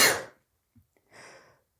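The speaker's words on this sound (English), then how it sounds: "oh man, I'm going to sneeze" A single sneeze: a loud, breathy burst at the start, then a short pause with small sniffs and a softer exhaled breath about a second later, close up with no talking.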